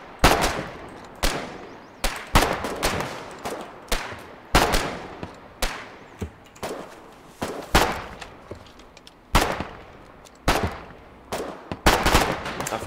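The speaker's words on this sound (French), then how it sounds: "Oulala, oulala, je me fais tirer dessus." Gunfire in the Foxhole war game: a steady run of sharp, loud shots and short bursts, roughly one or two every second, each with a brief echoing tail.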